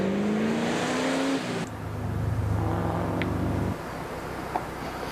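An American muscle car at a historic rally, its loud engine droning and revving past close by, pitch shifting as it passes, then a lower steady rumble that cuts off, with no talk.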